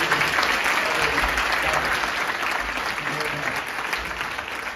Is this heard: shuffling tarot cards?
no